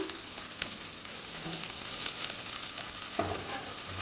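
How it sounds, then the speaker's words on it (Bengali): Small pieces of chicken for pulao fry in a pan with a steady, close sizzle that crackles throughout, with a few sharper pops and stirring scrapes. "এই যে মাংস চাললাম"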